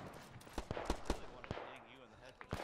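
Rapid gunfire bursts from a World War II–style shooter set in the siege of Chef du Pont, sharp irregular shots cracking close by in quick clusters, with a player talking over them.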